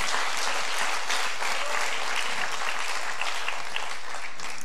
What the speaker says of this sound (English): Come on, give the Lord a big, big clap.